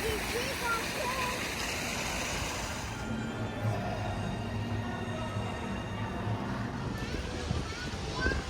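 Water flowing through an old aqueduct, a steady broadband rush like a small waterfall that runs throughout, with faint voices in the background.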